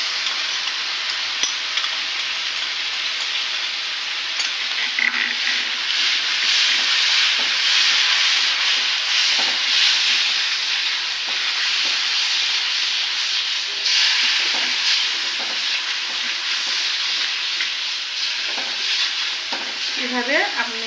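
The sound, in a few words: stirring masala paste in a pan for roast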